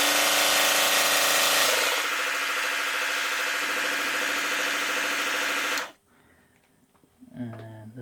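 A small mini belt sander powered at 24 volts runs with a loud, steady mechanical whine and abrasive buzz, close and continuous for about six seconds before cutting off, leaving brief quiet handling noises.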